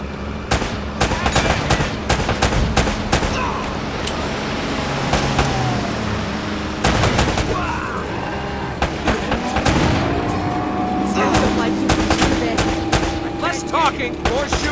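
Gunfire in a PlayStation 3 action game, repeated shots and sustained volleys with vehicle engine noise mixed in, voices speaking between bursts across a long, loud stretch.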